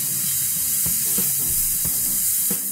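Green and red bell peppers with onion sizzle loudly in a hot frying pan for shakshuka, a steady bright hiss broken by a few soft stirring knocks, close up with no talk.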